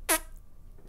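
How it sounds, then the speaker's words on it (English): A single short, loud buzzing fart noise blown into a close microphone opens the moment, followed by near silence. "It's a snooty fart."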